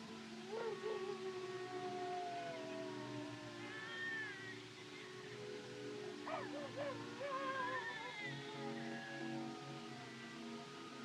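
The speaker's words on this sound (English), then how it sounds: "Them coyotes give me the creeps." Distant coyote howls, several wavering, rising and falling cries drifting faintly over a low background hum, with no clear talking.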